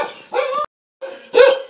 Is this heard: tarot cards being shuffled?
no